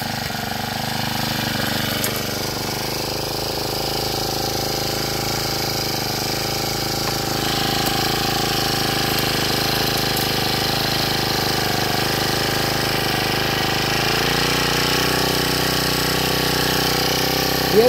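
A small Honda tiller engine runs steadily at idle, a continuous rough chugging drone that holds level throughout, close by and fairly loud.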